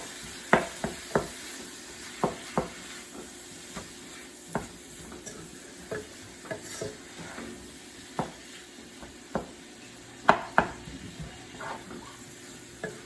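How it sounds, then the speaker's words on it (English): Chopped beef browns in a hot pan, a quiet sizzle broken by many sharp scraping and stirring clacks from a utensil at irregular intervals. "it's not taking long at all for the meat to brown"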